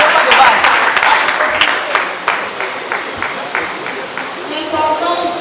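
A crowd at a political party open day breaks into loud applause, then the clapping thins into scattered individual claps as the room quiets.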